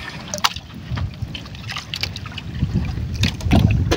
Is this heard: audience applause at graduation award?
no